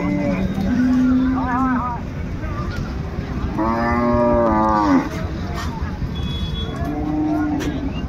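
Sahiwal cows and calves moo repeatedly at a busy cattle market, several drawn-out calls rising over steady crowd chatter and people talking nearby.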